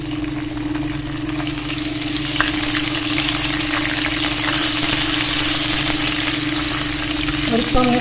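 Ginger garlic paste frying in a hot pan, a steady loud sizzle with occasional stirring scrapes, continuous throughout with a low background hum.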